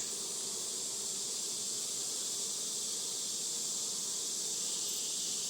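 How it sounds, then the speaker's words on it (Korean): A steady, high buzz of hornets hums continuously, like a swarm droning nearby at a beekeeping apiary, with no voices. "지금 여기 말벌이 좀 많기 때문에"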